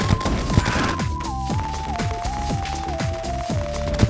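An assault shotgun fires chlorophyte bullets in Terraria, loud rhythmic repeated blasts in quick succession over a continuous droning tone that slowly drops in pitch, with no speech.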